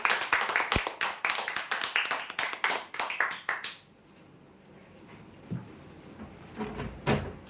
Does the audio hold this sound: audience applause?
yes